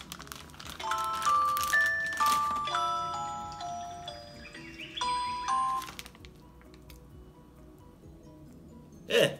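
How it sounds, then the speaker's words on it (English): An electronic alarm plays a chiming melody of bright notes for several seconds, then stops, leaving a quiet room. "That's my alarm telling me that I have to go to take care of something later on."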